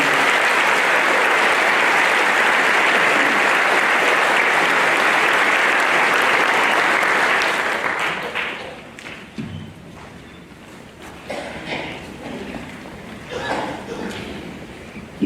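Graduation audience at a 2017 high school ceremony giving students a round of applause: dense, loud clapping fills the hall for about eight seconds, then thins into scattered claps, shuffling and murmuring as people settle.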